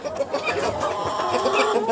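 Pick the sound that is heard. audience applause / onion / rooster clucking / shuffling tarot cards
rooster clucking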